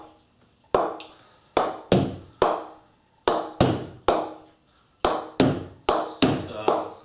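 An oiled, knocked-in cricket bat is tapped with a series of sharp wooden knocks, about a dozen of them, loud and close, in uneven pairs and single hits, each decaying quickly, with no speech.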